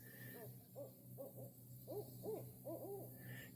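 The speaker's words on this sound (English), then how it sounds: "These are called barred owls. They are native to Louisiana." A barred owl hoots in a Louisiana bayou, a series of rhythmic hooting calls in short groups, moderately distant and fairly faint over quiet ambient hum.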